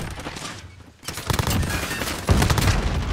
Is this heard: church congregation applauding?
no